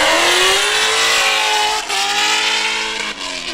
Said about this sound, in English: That car went from quiet to loud so fast.